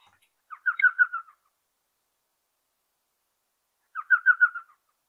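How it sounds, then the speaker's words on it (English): Elf owl laughing call, a played recording of a tiny cavity-nesting desert owl: two separate bursts of rapid, yelping chattered notes, each about a second long, with silence between them. "You are more likely to actually hear their laughing call."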